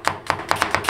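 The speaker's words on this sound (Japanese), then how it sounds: "ニンニクは包丁の腹で軽く潰し、それから刻みます。" A knife chops garlic on a board in five crisp, evenly spaced strikes after the cloves are lightly crushed with the flat of the blade, close and clear with no voices.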